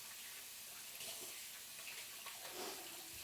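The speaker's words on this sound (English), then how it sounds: "I'll wash my hands real quick." A tap runs in a kitchen sink as someone washes their hands, a steady faint hiss of flowing water with small splashy changes, heard alone without talk.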